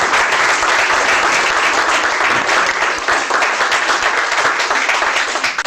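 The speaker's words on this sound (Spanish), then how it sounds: "Un aplauso al Señor Jesucristo" A church congregation bursts into sustained applause for Jesus Christ, dense steady clapping from many hands filling the room for several seconds without a break.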